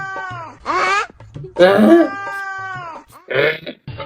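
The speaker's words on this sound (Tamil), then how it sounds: "எல்லாரும் இப்படித்தான் கத்துறதா பூனை?" A cat gives several loud, drawn-out meows, with three separate wailing calls separated by short pauses, close and prominent.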